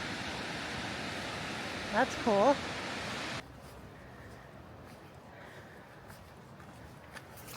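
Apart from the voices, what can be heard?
waterfall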